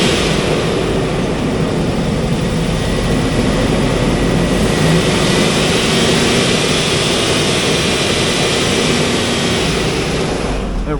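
2003 Hummer H2 with an LQ4 V8 engine running with a miss, a loud, continuous, dense roar that stays steady and close throughout.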